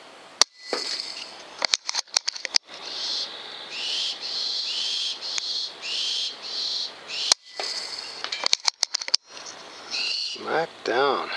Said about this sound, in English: That obnoxious bird is a baby owl right above my head